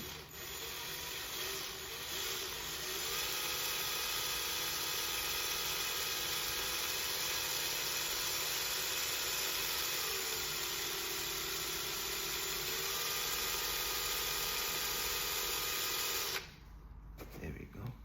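Steady whirring drone of a drill spinning wire to twist a vape coil, continuous and loud for most of the run before cutting off abruptly near the end.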